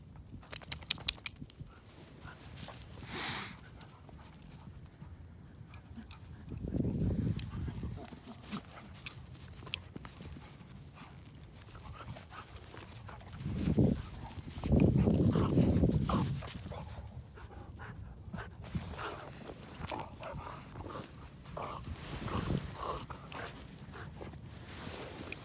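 Two dogs play and wrestle, one biting the other's tail, giving soft scuffling, thumping and jingling tag sounds with a few louder bursts of growly activity, fairly quiet throughout, while people talk nearby.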